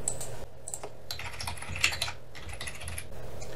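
A folder name is typed on a computer keyboard, heard as a quick run of close, light key clicks with brief pauses and no speech.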